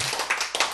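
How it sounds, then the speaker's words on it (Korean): Clapping from a congregation during a Korean church sermon, a short burst of broadband claps filling under a second. "이때 이제 박수 좀 쳐야지"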